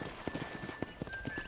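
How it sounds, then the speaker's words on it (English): Horse hooves clip-clopping at a walking pace under a rider in the Red Dead Redemption video game, an even series of soft, near thuds with a faint whinny-like tone in the background. "let's see if you can still ride a horse"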